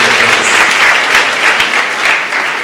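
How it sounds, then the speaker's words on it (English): Sustained audience applause at a live innovation competition event in Tanzania, dense and steady clapping from a crowd filling the whole stretch without talk. "Another round of applause to Madam Joyce"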